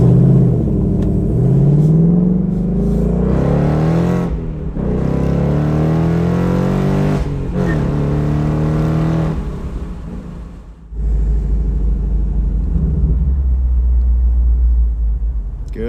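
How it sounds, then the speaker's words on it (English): A Ford Mustang GT with its exhaust opened revs and accelerates, loud deep rumbling bursts that rise and fall in pitch several times, ending in a low steady idle rumble up close. "Let's open up the exhaust."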